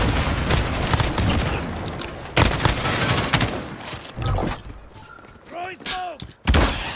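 In Call of Duty: Modern Warfare, an explosive charge goes off amid dense, rapid gunfire, with heavy booms and sharp bursts rising and falling over several seconds.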